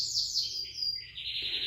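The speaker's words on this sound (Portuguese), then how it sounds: "Hoje meu passarinho resolveu aparecer pra vocês aqui, né? Ele tá feliz hoje, cantando." A pet bird sings indoors in a run of clear, high whistling chirps that slide and repeat. It sounds moderately close over a soft, steady background hum.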